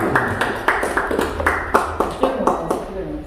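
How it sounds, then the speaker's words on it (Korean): Congratulatory applause at an award ceremony for local and regional councillors: a crowd claps in steady bursts, fairly loud and close, with periodic sharper peaks. "축하의 박수 부탁드립니다"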